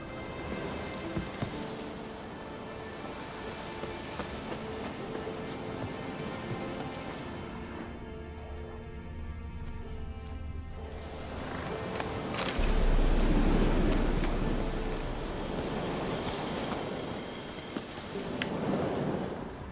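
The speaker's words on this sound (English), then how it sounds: "It's actually raining quite hard, guys." Heavy rain pours steadily in a dense, loud hiss, swelling stronger toward the end, with a low rumble underneath.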